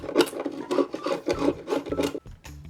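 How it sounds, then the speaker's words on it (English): A chisel works out wood for a nightstand bookshelf shelf slot, giving a series of close, quick scraping and rasping strokes in an uneven rhythm, with no talk. "now I'll just chisel it out."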